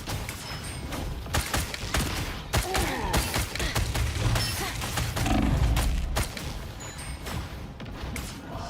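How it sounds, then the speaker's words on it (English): Rapid gunfire in Marvel Rivals, a dense burst of sharp, repeated shots cracking across a hectic team fight, with thuds, impacts and mechanical effects mixed in and a voice faintly underneath. "Definitely shooting through people right now."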